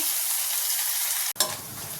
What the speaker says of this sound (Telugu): అల్లం వెల్లుల్లి పేస్టు అలాగే ఒక హాఫ్ స్పూను పసుపు రెండు పచ్చిమిరపకాయలు కొంచెం కొత్తిమీర పుదీనా ఇల్లు కూడా మంచిగా ఫ్రై చేసుకోవాలి